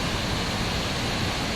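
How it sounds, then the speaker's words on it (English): Sgwd Yr Eira waterfall in the Brecon Beacons roars as a dense, unbroken rush of falling water, loud and close, with no voices over it. "Let's go behind this waterfall then."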